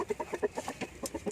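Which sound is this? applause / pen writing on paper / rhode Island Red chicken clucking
rhode Island Red chicken clucking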